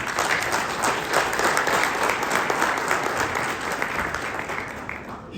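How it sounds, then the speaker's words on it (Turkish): Audience applause in a hall at a Turkish pharmacists' congress, a dense steady wash of many hands clapping throughout, fairly loud and even, fading slightly at the end. "Sizin huzurunuza onları alkışlamak istiyorum arkadaşlar."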